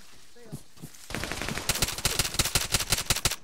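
Gunfire rings out in the Arma 3 video game as a weapon is fired at lights: a quiet stretch, then a rapid string of sharp shots in quick bursts, loud and close.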